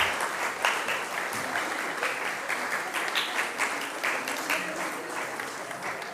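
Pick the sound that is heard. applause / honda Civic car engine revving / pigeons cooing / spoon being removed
applause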